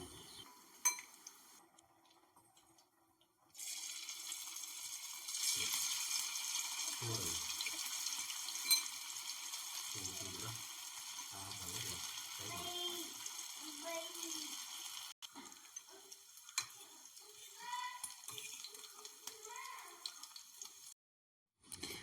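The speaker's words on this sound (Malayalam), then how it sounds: "ബാക്കിയുള്ള ബീഫും കൂടി ഇതേ രീതിയിൽ തന്നെ നമുക്കൊന്ന് വറുത്തെടുക്കാം" Oil sizzles and hisses steadily as beef deep fries, with occasional clinks of a utensil against the pan; close and fairly quiet.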